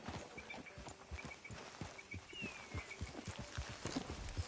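A horse trots in the video game Red Dead Redemption 2, its hooves clip-clopping in a steady, even rhythm on the ground along with faint ambient game sound.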